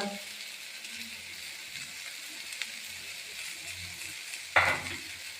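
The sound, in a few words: garlic, ginger, cinnamon and cloves frying in a pan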